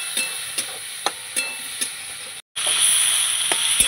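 Spice paste with chili powder and mustard is stirred in a pan: a steady close sizzle is broken by regular scraping knocks of the spoon roughly every half second, and the frying briefly cuts out before returning louder.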